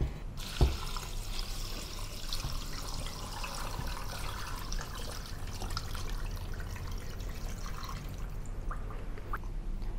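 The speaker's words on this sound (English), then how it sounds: "Then add water." Water pours into a pot over chicken bones, ginger slices and spring onion to make Chinese chicken stock, a steady soft splashing that runs on, quiet and close, with a small clink near the start.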